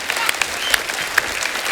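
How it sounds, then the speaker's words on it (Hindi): Studio audience on a Kapil Sharma comedy show breaking into loud, close applause after a dance group's performance, dense clapping with a few sharp cheers and whistles. "एक बार जोरदार तालियां हो जाए"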